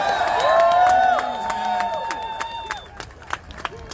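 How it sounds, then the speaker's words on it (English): A crowd at a rally in Des Moines, Iowa, applauds and cheers for veterans, with steady clapping and scattered shouts running beneath a loud amplified voice over the PA. "Let's give a round of applause to the veterans."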